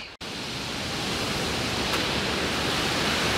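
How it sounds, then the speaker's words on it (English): A waterfall in a brook roars loudly and steadily, a dense continuous rush of falling water heard up close with no voices. "This is the fall in the brook from another angle. It's pretty cool and loud."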